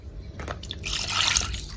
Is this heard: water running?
yes